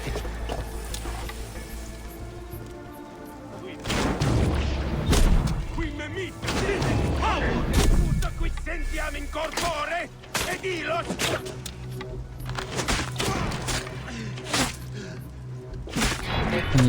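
An enemy fires repeatedly at the player in Assassin's Creed Origins, the shots landing as dense thumps and impacts in the thick of busy combat noise, with a voice talking over the action.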